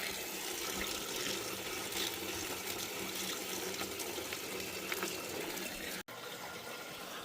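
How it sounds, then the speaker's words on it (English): Water from a garden hose runs steadily into a removed Suzuki Samurai fuel tank, a continuous close splashing gush with a brief dropout near the end. "We're going to run a garden hose in there for a little bit and see what we can get out"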